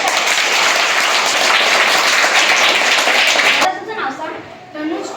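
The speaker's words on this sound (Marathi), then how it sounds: "तिच्यासाठी जोरदार टाळ्या वाजवा" Children at a primary school quiz burst into loud, dense applause that holds steady for several seconds, then fades as voices take over.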